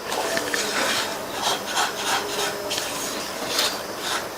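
A quarter cup of desiccated coconut is stirred continuously in a pan over a low flame, giving steady close scraping and rubbing strokes with a dry, gritty texture and no talking.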